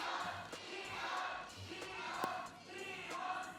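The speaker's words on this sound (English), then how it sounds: "엄청난 선창과 함께 응원이 이렇게 쏟아졌습니다" A large arena crowd at an LCK Summer Playoffs esports match between KT and T1 chants and cheers in rhythmic waves, a distant, reverberant roar with rising and falling swells.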